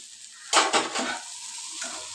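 Egg frying with masoor dal in a pan, a close sizzle broken by a few quick scraping stirs of a utensil against the pan before settling into a quieter fry.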